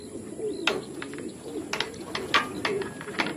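Pigeons coo softly and repeatedly near a loft at a pigeon race, with brief chirps and faint background voices.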